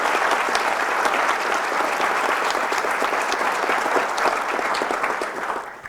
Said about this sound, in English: So if y'all could just give them one more round of applause.